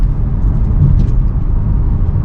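A 2014 Ford Mustang gives off a loud, steady, deep engine rumble that stays heavy and close throughout, with no voices.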